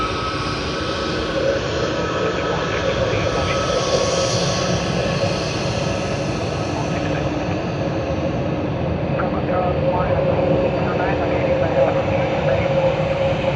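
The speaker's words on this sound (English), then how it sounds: "We are waiting the arrival of LATAM Airlines." A LATAM Airlines jet in Harry Potter livery arrives at Sydney Airport, its engines a steady, broad roar heard from a distance that holds evenly for over thirteen seconds, with faint voices underneath.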